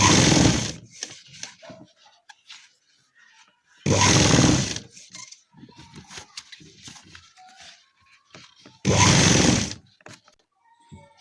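Sewing machine stitching elastic onto a sharara, three loud close bursts of rapid whirring stitches each lasting about a second, separated by quieter handling and rustling of fabric.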